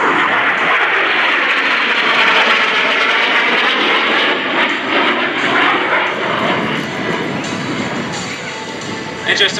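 AV-8B Harrier II jet at an air show roaring continuously with loud, broad engine thrust that holds steady throughout and eases slightly near the end, a commentator's voice partly under the noise.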